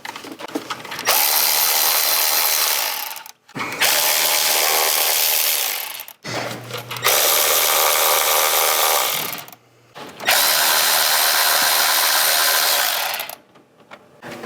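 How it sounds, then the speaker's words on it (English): A power tool ratchets out 10mm coil pack hold-down bolts on a 100 Series Land Cruiser, four loud close bursts of whirring with short pauses between them. "now I'm gonna remove the 10mm hold down bolts for all of the coil packs"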